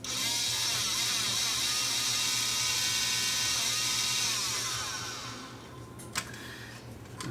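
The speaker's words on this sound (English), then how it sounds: "let's plug power back in and see if the motor will try to spin better on its own" Small tray motor in a Toshiba DVD player with a stuck drawer, spun up on 13 volts, a steady high buzzing whir that holds for about five seconds, then fades out, followed by a couple of faint clicks.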